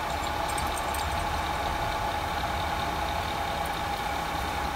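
A cooling fan in a modded G4 Cube under an autonomous fan controller hums steadily, a constant close whir with a clear tonal whine and airy rush, no talk.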